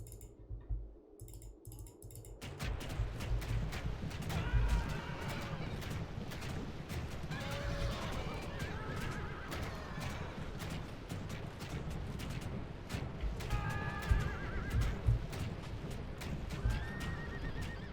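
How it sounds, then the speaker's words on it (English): Horses neigh and whinny repeatedly in a Rome: Total War Barbarian Invasion battle during a siege, with horse archers nearby, their calls rising over a steady din of hooves and combat noise throughout. "Those are the final horse archers."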